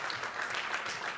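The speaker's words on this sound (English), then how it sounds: "give him a round of applause" Audience members applaud at a charity auction, giving a short burst of steady, moderately quiet clapping from a crowd with no voices over it.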